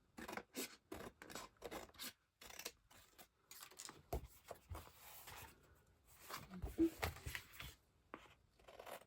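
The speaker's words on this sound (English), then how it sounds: "And then just cut these extra bits off." Scissors trim scrapbook paper in short, quiet snips and rustles, close and faint, with irregular pauses between cuts.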